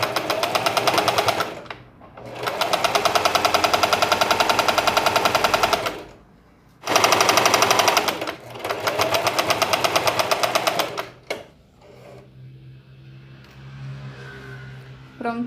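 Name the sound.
sewing machine stitching hem of dish towel fabric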